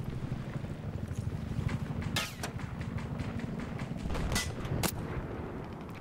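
Sniper rifle shots in a video game crack out as a few sharp, loud reports spaced apart, over steady rumbling game ambience.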